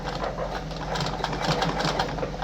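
A Singer 5107 sewing machine stitching a buttonhole makes a steady, continuous mechanical whir with a fast, even stitching rhythm throughout.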